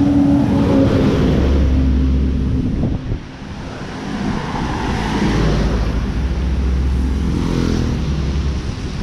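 A car approaches and passes on a wet road during heavy rain beside a flooding river in El Salvador, its engine and tyre rush rising then fading over steady loud wind and rain noise.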